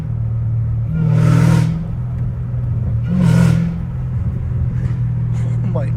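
Catless Hellcat Redeye exhaust idling with a deep steady rumble, swelling twice into louder low-RPM blips, with people talking over it.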